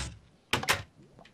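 A door opening in the Minecraft video game, heard as two quick close clunks in a row following a quiet stretch, with faint background noise and no voices.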